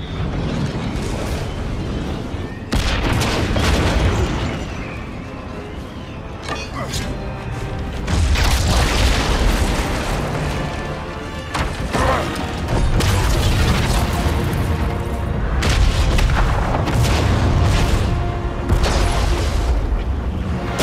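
A bomb blast in a God of War Ragnarök cutscene: heavy booming, rumbling impacts and crashing debris that fill the scene loudly and continuously, mixed with voices.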